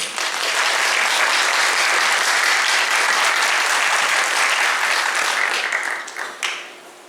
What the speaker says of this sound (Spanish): Recibámosle con fuertes aplausos.